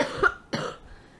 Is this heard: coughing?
yes